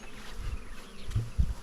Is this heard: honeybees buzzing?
yes